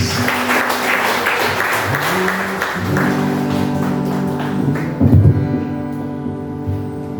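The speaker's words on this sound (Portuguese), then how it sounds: "Você pode aplaudir o Senhor Jesus." Worshippers at a church service in Brazil applaud, a thick, continuous patter of clapping under sustained musical tones, swelling briefly near the end before thinning out.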